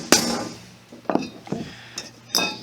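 A hammer strikes a metal punch set in a hole in a temporary part, giving a handful of sharp, separate metallic whacks spaced out with short pauses between them, close by and alone.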